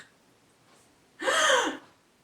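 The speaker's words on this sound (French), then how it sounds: "Ce type de respiration, on appelle ça la respiration claviculaire." A single sharp, shallow gasping inhalation demonstrates clavicular breathing for singing, brief and close, after a moment of quiet, with no speech over it.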